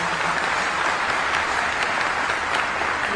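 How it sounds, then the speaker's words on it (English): A roomful of some 400 people at an air force base State of the Base event breaks into loud, dense applause, continuous and even for several seconds with no voices over it. "That deserves a round of applause."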